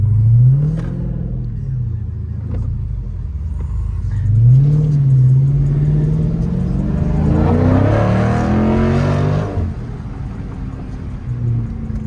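A Dodge Scat Pack with straight pipe exhaust revs up with a deep, loud rumbling roar that swells and falls across several throttle blips, then settles back to a throaty idle.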